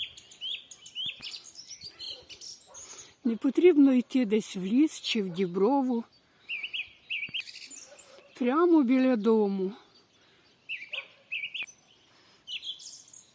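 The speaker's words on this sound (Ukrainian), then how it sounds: "Ось чуєте, який красивий супровід супроводжує пташиний, супроводжує мою розповідь." Birds chirp and trill in short, high repeated phrases close by in a blossoming spring garden, while someone speaks calmly over and between the songs.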